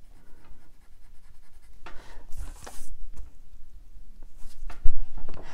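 Coloured pencil strokes scratch across paper up close, a series of soft, uneven scratchy passes, some quick and some drawn out, with no talking.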